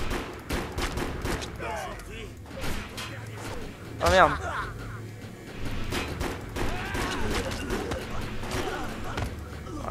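Gunfire from the player's gun in the video game Defiance, rapid repeated shots mixed with impacts and game effects, loud and continuous under a voice speaking French.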